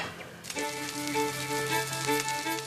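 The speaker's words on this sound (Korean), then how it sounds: "지글지글 이 소리랑 훈연되는 이 코코넛 연기랑 안 맛있을 수가 없겠는데요" Fish grills over a smoky coconut-husk fire in Lombok, giving a steady close sizzle and crackle with a constant tonal hum underneath.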